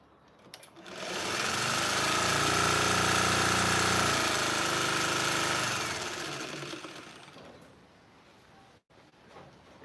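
A sewing machine named Duchess runs fast through fabric for a quilt, a close, loud, even motor whir and needle chatter that spins up, holds for several seconds and then winds down to quiet.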